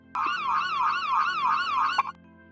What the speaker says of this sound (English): is for ambulance.